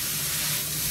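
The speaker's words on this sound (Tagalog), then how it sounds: "Igisa lang natin siya hanggang sa maluto ng konti." Ingredients for Filipino dinuguan sauté in a hot pan, giving a steady, close broadband sizzle that holds evenly through a brief moment, with no voices.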